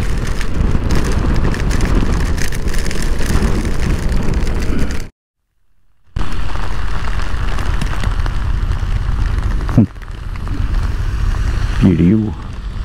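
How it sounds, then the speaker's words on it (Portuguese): Loud, roaring wind buffets the microphone in strong gusts on a road in Rondônia, Brazil, broken by a brief silence, with vehicle rumble and a few voices underneath. "Ventania."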